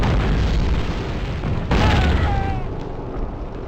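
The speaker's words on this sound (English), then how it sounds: "Enemy grenades! Grenades!" Booming grenade explosions in a Call of Duty battle: a loud blast at the start and a second heavy burst midway, followed by a decaying rumble as the noise fades.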